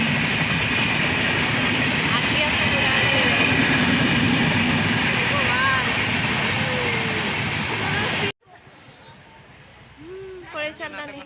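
A long train rolls past on a railway line in rural Odisha, a loud, steady rumble with clattering wheels and faint squeals that runs for several seconds and then cuts to quieter ambience with a brief high squeal.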